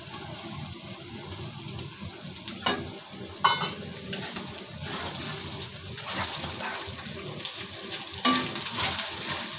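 Chicken fried rice cooking in a pan as an egg is added, a continuous sizzle with scattered scraping stirs and a few sharper clanks, fairly close and without talk.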